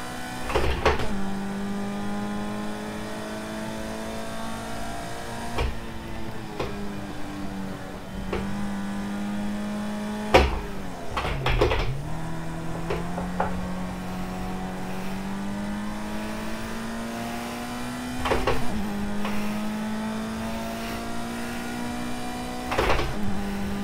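Racing car engine noise from Project Cars 2 on a circuit in Portugal, one car running alone, with a steady sustained engine tone that rises through the gears and dips sharply at several gear shifts or braking points.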